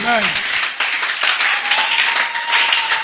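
Church congregation applauding and cheering during a sermon, a dense, loud wash of clapping with voices mixed in throughout.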